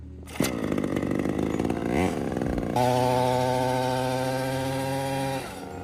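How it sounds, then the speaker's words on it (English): A cheap mini motorcycle's small engine revving hard during a burnout: a sharp start, a rising buzzy whine, then a sustained high-pitched drone held near and loud for several seconds before dropping off. "I'm gonna do a little burnout, warm up the tire"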